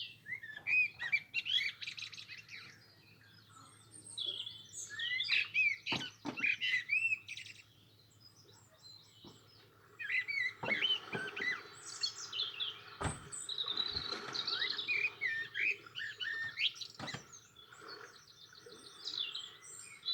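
Several birds chirp and tweet outdoors near the sea, bright bursts of calls coming and going in clusters, fairly quiet against a faint low background hum with occasional knocks.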